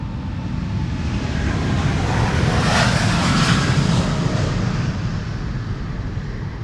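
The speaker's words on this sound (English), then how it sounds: "Here we have Aeromexico flight 26 going to Mexico City in Mexico. 7879 Dreamliner" Aeromexico Boeing 787-9 Dreamliner taking off from Amsterdam's Polderbaan runway 36L on a sunny morning, a loud, steady jet engine roar swelling to a peak midway and then easing slightly, heard alone without talk.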